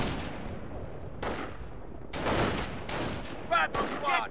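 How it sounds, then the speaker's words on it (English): Gunfire rattles through a Company of Heroes World War II battle, with several bursts of shots and explosions over a constant combat rumble and a short, sharper volley near the end. "Under enemy fire."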